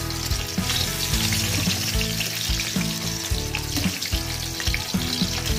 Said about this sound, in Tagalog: habang nagpiprito tayo ng talong, nilalagyan natin yung longganisa